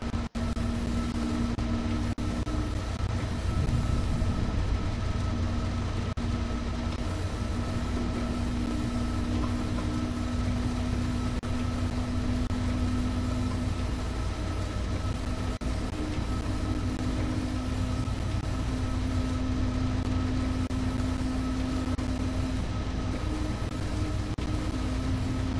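An S-Bahn commuter train arrives in the railway simulator Train Sim World 2, a loud continuous rumble with a sustained motor hum and steady tonal whine, unbroken and close throughout.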